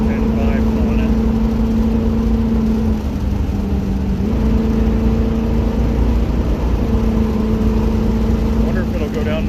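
B-71 police interceptor with an open exhaust, driving in second gear down a mountain, gives a steady, loud engine drone with a constant low hum that holds throughout.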